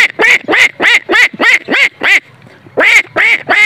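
A voice imitates a duck quacking, giving a series of loud, nasal quacks in a steady rhythm, a short pause, then three more quacks, close and alone.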